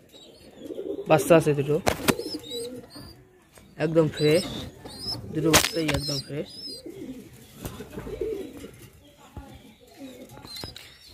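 Fancy pigeons, including a breeding pair sitting with chicks, cooing in a loft in Bangladesh, with repeated close bursts of throaty cooing and a few sharp clicks while someone talks over them.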